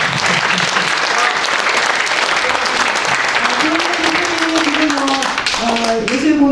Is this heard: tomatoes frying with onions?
no